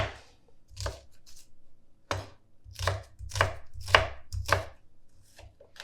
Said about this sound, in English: nice fine chop on the shallot